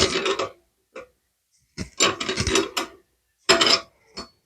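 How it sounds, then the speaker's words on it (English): A wrench tightens the nut on a toilet bolt during installation, giving several short, close ratcheting bursts separated by pauses. "you do a couple turns here on the wrench. You'll feel it snug up."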